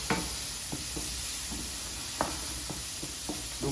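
Onion and bell pepper fry in a pan with a soft, even sizzle, broken by several sharp scraping stirs at irregular intervals, close and fairly quiet, with no voices.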